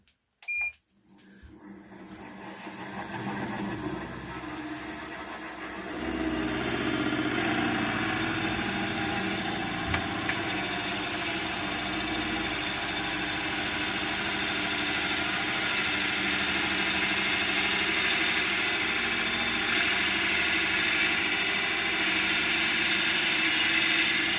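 Wood lathe spinning a log at about 500 rpm while a Forstner bit drills into it, a steady mechanical hum and grinding drone that builds after a brief start and then holds loud and continuous.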